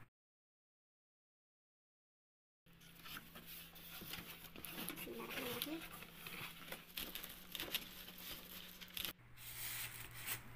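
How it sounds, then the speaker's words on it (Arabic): Cardboard box holding a new electric oven opened, with crinkling packaging, plastic wrap and tearing cardboard rustling up close after a silent start. "نفتح بقى العلبة كده مع بعض"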